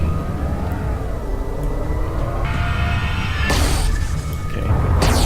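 Electric-sounding shock rifle fire in the space game Everspace, with crackling bursts and a sharp charged blast over a steady low rumble.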